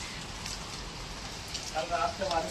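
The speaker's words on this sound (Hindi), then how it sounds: "देखो गाइस बारिश हो रहा है कितना तेज, कितना अच्छा लग रहा है।" Rain falls steadily as a soft, even hiss of drops striking surfaces, faint and continuous, with a few brighter patters near the end.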